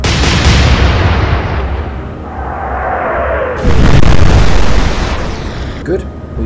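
Heavy naval gunfire from warships in the Atlantic Fleet battle game, with a sustained loud rumbling blast and a second surge of booming partway through, along with a whistling shell sound. The boom rolls over continuous low battle noise.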